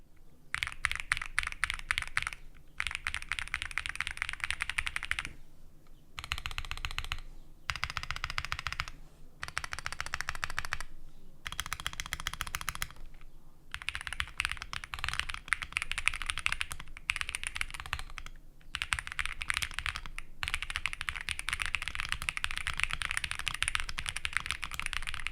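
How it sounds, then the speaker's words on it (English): Rapid typing on an Epomaker Tide65 mechanical keyboard, dense clacky keystrokes in bursts of several seconds separated by brief pauses, close and crisp with no voices. "I'm going to be doing a quick typing test on this keyboard so that you can get an idea of how it sounds."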